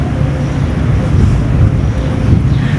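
Loud, steady wind rushes across the microphone, a constant low rumble and hiss close up with no one speaking.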